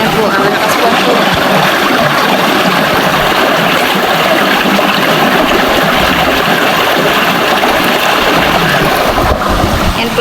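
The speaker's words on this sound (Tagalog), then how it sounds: "dito po malakas ang tubig ng bang-bang." Strong running water pours steadily at a spot where cassava is peeled, a loud continuous rushing close to the microphone that holds at the same level throughout.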